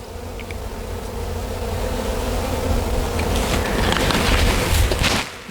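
Honey bees swarm around an open hive with a yellow queen, making a dense, loud, continuous buzzing drone close by. The drone stays steady throughout and breaks off abruptly at the very end.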